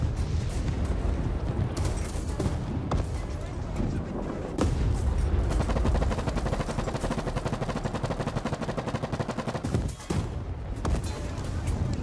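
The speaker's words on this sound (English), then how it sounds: "I was just testing the gun." PBM-3 bomber machine guns firing in War Thunder, dense rapid bursts of gunfire rattling almost without pause, loud and continuous with brief gaps and a voice over it.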